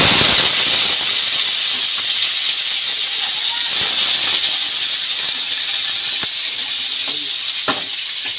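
Mixed vegetables (potato, pumpkin, flat beans, ridge gourd, radish and cauliflower stalks) hit hot spiced oil with a loud, steady sizzle. The dense hiss stays close and continuous, with small crackles and some stirring scrapes.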